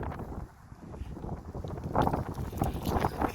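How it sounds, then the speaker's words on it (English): Gusty wind on a New York City waterfront park buffets the microphone in uneven bursts, growing stronger in the second half, with a faint watery background and no speech. "It is very windy because it's right on the water"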